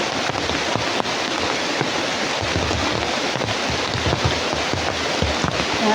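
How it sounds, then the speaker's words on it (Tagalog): Heavy rain pouring down outdoors as a steady, loud, unbroken hiss that fills the whole stretch with no let-up and no voices. "Sa ngayon po mga tol, sobrang lakas ng ulan dito tol."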